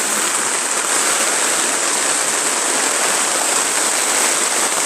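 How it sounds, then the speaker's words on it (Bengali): Heavy rain pouring down steadily during a power cut, a loud continuous broadband hiss of water with no breaks and no talking. "জোর বৃষ্টি নেমেছে যে কারেন্টই চলে গেছে"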